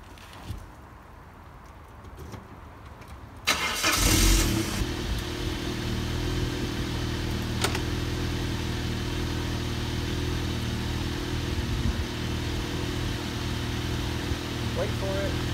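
A 1997 Saab 900 Convertible engine cranks and catches at about 3.5 seconds, then settles into a steady, close idle with a continuous low hum after a quieter lead-in.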